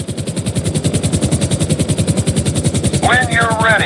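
A helicopter in GTA 5 Online hovers low over a moving trailer, its loud, fast rotor chop pulsing steadily throughout, with a brief warbling electronic tone joining near the end.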